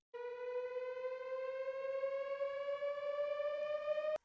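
A trap-production synthesizer holds one sustained, bright, harmonically rich tone that slowly glides upward in pitch for about four seconds, siren-like and steady in level.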